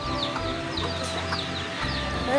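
A flock of chickens clucks and chatters nonstop at close range, the calls overlapping in a loud, continuous stream with brief rising squawks over a constant background hum.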